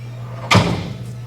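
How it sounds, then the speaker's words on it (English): A door slams once with a sudden loud bang that rings briefly and fades, heard over a steady low hum in a room during a chair yoga class. "The door just really scared me."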